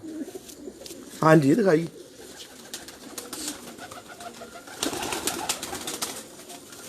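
Low cooing from high-flying pigeons in a loft hums underneath, while a person speaks briefly over it.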